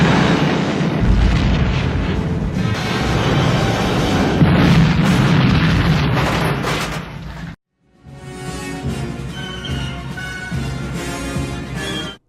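A heavy film explosion as Batman is shot out of the sky by the Joker, a loud, dense rumbling boom under a swelling action score that cuts briefly to silence and then resumes with music and effects.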